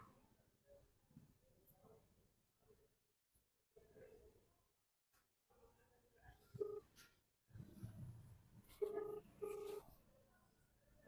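A phone being dialed, a few short electronic beep tones near the end, amid quiet rustling and brief low voices.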